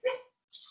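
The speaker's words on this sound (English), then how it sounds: "There's the dog," A dog lets out one short, sharp bark close by indoors, followed after a brief silence by a thin, high-pitched sound.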